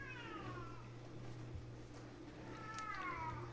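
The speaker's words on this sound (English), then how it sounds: "Oh, kitty in the background." A cat meows twice in the background of a kitchen where scallion pancake dough is being made. Both drawn-out calls are moderately loud over a steady low hum, with no speech.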